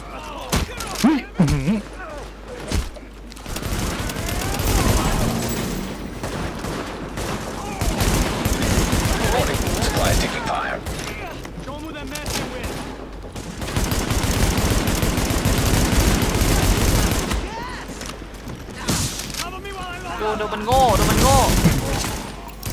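Near-continuous gunfire from the video game Tom Clancy's The Division, with rapid automatic bursts and volleys lasting throughout, loud and close, under excited shouting from players and occasional in-game radio alerts.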